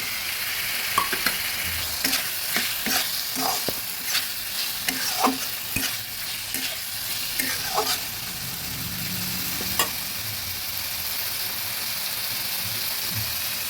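Chopped tomato frying with spices in a pan for a katla fish curry: a steady sizzle runs throughout, broken by repeated scraping stirs in the first eight seconds, with no talking.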